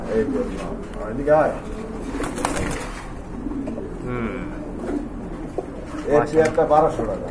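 A male and female pair of orange Chila pigeons coo up close in throaty, bubbling bursts, with quieter stretches and a faint knock between calls.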